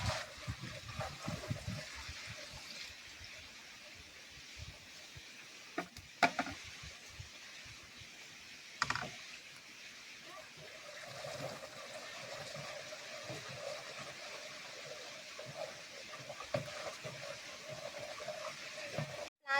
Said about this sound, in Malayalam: വെള്ളം അത്യാവശ്യം നല്ല ഫോഴ്സിൽ തന്നെ വരുന്നുണ്ട്